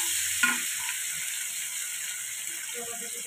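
Chopped tomato goes into a hot frying pan of spiced cooking for garlic lentil dal, giving a steady sizzle with a brief clatter of stirring near the start and a few light scrapes later.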